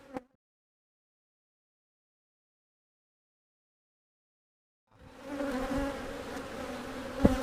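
Honey bees from a laying worker hive buzz in a dense, steady hum that starts after a long near-silence, with a brief knock at the start and a sharp tap near the end.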